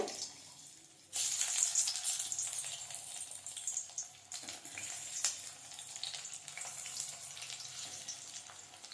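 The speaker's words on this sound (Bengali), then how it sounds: "তেল গরম হয়ে গেছে এর মধ্যে আমি প্রথমে এখানে কিছু আলু নিয়েছি এগুলো আমি এগুলো সেদ্ধ আলু এগুলো ভেজে নেব" Boiled potatoes drop into hot oil in a pan, and a soft, even sizzle starts abruptly and carries on steadily at low volume with no voices.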